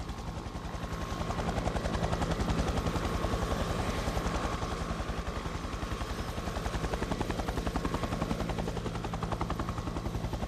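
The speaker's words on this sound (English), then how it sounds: "The A109, twin-turbine military and civil utility helicopter" A twin-turbine Leonardo A109 military utility helicopter flies close by, its rotor producing a loud, steady rapid thudding chop that continues without a break.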